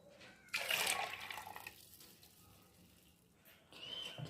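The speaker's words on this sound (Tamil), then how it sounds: "நம்ம அந்த தேங்காய் பழம் தண்ணியை ஆட் பண்ணிட்டு வந்து அதுக்கு ஊற்றுறோம்" Coconut milk water poured into a pot for sothi, a short splashy pour that tapers off, then a second lighter trickle at the end, fairly quiet with no talking.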